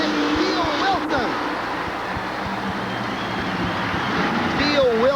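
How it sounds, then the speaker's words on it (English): Monster trucks race inside the Houston Astrodome in 1987, a loud, steady engine roar in a large arena while an announcer commentates throughout. "Deal Wilson really putting on a good drive"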